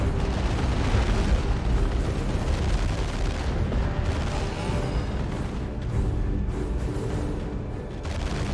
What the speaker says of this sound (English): Now the Chaos Marines are firing upon the Warboss.